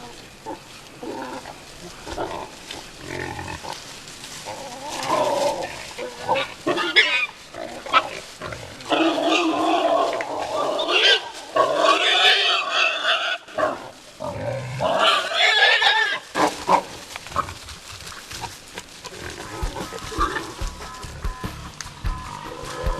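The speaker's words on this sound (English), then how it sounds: "Boars fight for two main reasons: territory and breeding rights." Wild boars fight at close range with harsh grunts, squeals and roars that overlap in a chaotic, sustained scuffle, loud and irregular throughout.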